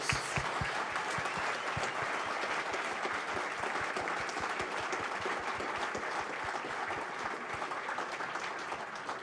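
Steady, dense applause from a sports awards audience, many hands clapping loudly and continuously with no break.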